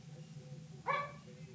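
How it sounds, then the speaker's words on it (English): A dog barks once outdoors at moderate distance in Atlanta. It is a single short bark over a steady low background rumble. "So right now we have the dog outside, so he's actually barking right now"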